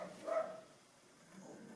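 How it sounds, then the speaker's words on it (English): Dogs bark faintly from another room of a house, with a short bark or yip early on and then a quieter murmur of indoor sound. "so my dogs are going to keep barking."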